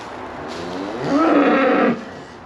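A cow on a farm where heifers are being branded and first calves are arriving gives a single loud, drawn-out moo close by, calling for a calf, over a low background hum.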